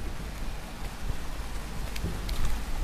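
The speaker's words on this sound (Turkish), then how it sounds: "şiddetli yağış devam ediyor" Heavy rain falls steadily in a flood-hit town in Adıyaman after an earthquake, a constant broadband wash with no voices, loudening slightly near the end.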